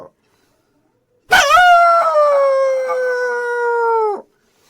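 A man imitates a jackal howling in the forest, giving one long, loud, sustained wavering howl that rises sharply, holds steady for about three seconds and then cuts off, alone and close.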